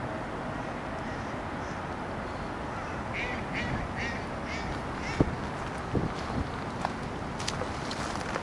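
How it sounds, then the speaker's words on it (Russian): Ducks feeding, diving and preening on a pond in Yekaterinburg, with a few scattered quacks over steady wind and outdoor background noise, some faint and distant. "А вот здесь утки кормятся, ныряют, чистятся вот там."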